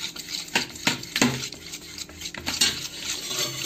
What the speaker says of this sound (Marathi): सोडा टाकल्यानंतर याला फेटून घ्यायचं।